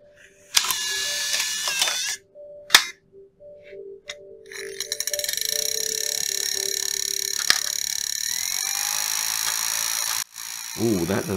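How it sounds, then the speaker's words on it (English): A Nintendo Wii disc drive with a disc read fault runs its feeding mechanism up close, giving whirring spin-ups, sharp clicks and ratcheting mechanical ticks with short pauses between bursts, then a sustained motor whine. "I'll show you this one close up so you can see the disc drive in action."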